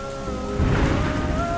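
Steady rain pours down, a dense hiss of falling drops that swells slightly midway, with a faint tonal hum in the background.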